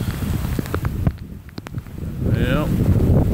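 Hurricane gust in Clermont, Florida, a loud roaring rush of wind buffeting the microphone with heavy broadband noise, rising and surging, while a person talks over it.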